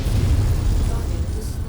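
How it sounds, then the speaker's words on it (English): Missile volley explosions in the MechWarrior 5 video game, a dense, loud low-end rumble of blasts that rolls on continuously with no clear gaps. "Missile volley ought to finish the job."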